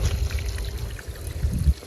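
Water poured out for washing clothes, a low gurgling splash running steadily with a brief louder surge near the end, close by and alone.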